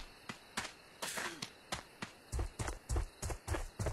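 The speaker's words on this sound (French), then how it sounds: "écouter les bruits de pas qui changent en fonction du sol" Footsteps of a character in The Chronicles of Spellborn video game, a series of crisp thudding steps that grow heavier and faster toward the end, close and fairly faint, with no talk.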